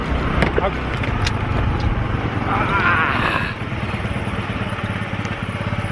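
A motorbike ridden along a road in Goa gives a continuous nearby engine drone mixed with wind rush, with voices talking over it partway through.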